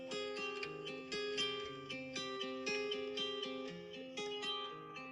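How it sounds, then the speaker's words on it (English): A quiet guitar phrase plays back with plucked notes stepping through a short melodic pattern, soft and slightly processed, no talking. "It was actually the original recording of this guitar"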